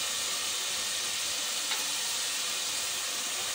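Onion-tomato masala fries in hot oil as yogurt goes in for a kebab gravy, a steady, close, even sizzle that hisses without a break and with no voices.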